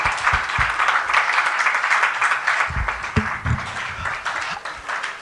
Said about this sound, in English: That was not enough applause.